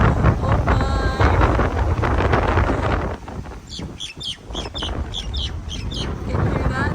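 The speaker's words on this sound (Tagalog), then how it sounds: "Ang iingay ng mga ibon." Strong wind buffets the microphone outdoors at the Hilton in Doha while noisy birds chirp in quick repeated bursts, the chirping growing clearer and more frequent in the second half.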